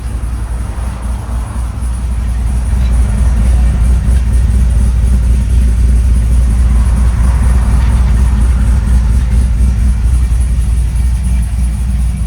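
A cammed GMC Sierra 6.2L V8 with long tube headers and a Valvetronic Designs exhaust idling after a cold start, a loud, steady, deep rumble close by that swells slightly after the first two seconds and holds without voices.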